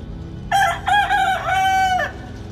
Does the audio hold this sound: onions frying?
no